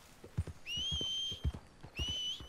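A horse in the Red Dead Redemption 2 video game, with hooves clopping in a steady rhythm and a high whistling whinny-like tone twice over it, heard alone without talk.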